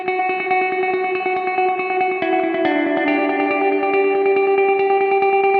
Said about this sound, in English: The delay I used gives a bit of a slapback kind of sound